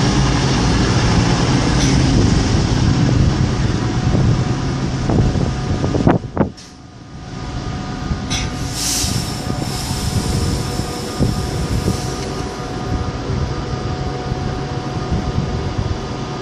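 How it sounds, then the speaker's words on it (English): Pendolino train departing Birmingham International station, a steady loud rumble and rolling hum with a sharp transient and brief dip midway, then continuing, with no talk. "I'll focus on the Pendo as it's departing."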